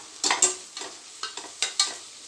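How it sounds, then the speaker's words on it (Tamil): Spices such as chilli powder, coriander powder, garam masala and turmeric stirred in a hot pan for soya chunk biryani, with a soft sizzle under a series of sharp, scraping spoon strokes in an uneven rhythm, close and clear. "இப்போ இதில் அரை ஸ்பூன் வத்தல் பொடி, 1 ஸ்பூன் மல்லிப்பொடி, 1/4 ஸ்பூன் கரம் மசாலா, மஞ்சள் பொடி கொஞ்சோண்டு போட்டு வதக்கணும்."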